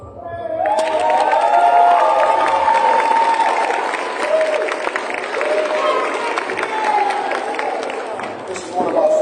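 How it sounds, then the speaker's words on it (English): At an elementary school family night, a crowd claps and cheers loudly for a first grade class. Sustained applause is mixed with children's shouts and whoops, and an announcer's voice can be heard above the crowd. "give him a round of applause"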